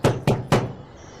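Three quick, solid knocks on a house door, close and fairly loud, with the last knock followed by a short fading ring of the wood.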